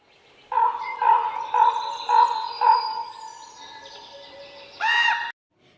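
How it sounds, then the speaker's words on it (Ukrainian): A crow cawing outdoors: five evenly spaced harsh calls about half a second apart, then a pause and one final louder, rougher caw, clear and fairly close with no talking. "Це каркала ворона"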